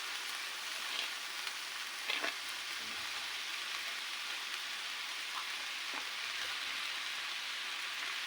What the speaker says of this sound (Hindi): और अब हम इसके अंदर ऐड करेंगे पास्ता।